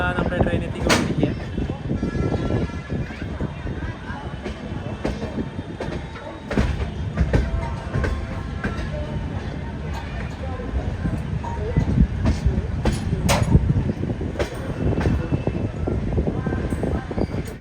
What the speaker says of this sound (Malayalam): റെയിൽവേ സ്റ്റേഷനിലേക്ക് ഇതാ നമ്മുടെ ട്രെയിൻ എത്തിക്കൊണ്ടിരിക്കുക